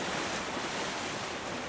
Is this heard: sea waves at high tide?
yes